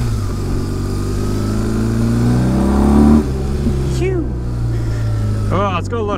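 A motorcycle engine of about 98 horsepower drones steadily and loudly, then revs up as the bike pulls away, with a rider talking over the engine note.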